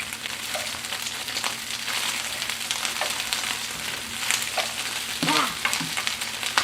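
Food being tossed around in a hot pan to warm it through for a Thanksgiving dish, with a steady sizzle and the scrape and shuffle of stirring continuing throughout, no voices.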